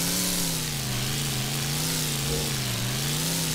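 Off-road 4x4 engine in the 2001 PlayStation 2 racing game 4x4 Evo 2, a loud steady synthetic drone with pitch wavering up and down as it accelerates, continuous and alone.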